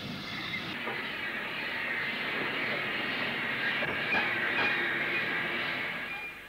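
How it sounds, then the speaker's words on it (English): A steam train runs along the line at Bidston on the Wirral, a steady rolling rumble with faint rail clicks throughout, close and continuous. "The train is signalled onto the XGC line towards Harden Bridge."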